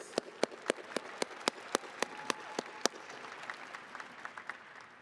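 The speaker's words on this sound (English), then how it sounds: "So let's give him a round of applause anyways." Applause at a 2025 university graduation hooding and diploma ceremony, with a few distinct claps standing out sharply over a softer crowd clapping that fades away over a few seconds.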